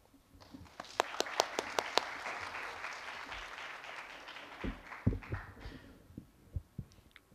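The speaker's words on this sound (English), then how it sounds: "Please give a round of applause to Associate Professor Bunsom Lerthiranmong." Audience applause for the opening speaker at an engineering school information session, a broad wash of clapping with a few sharp close claps, fading out after several seconds.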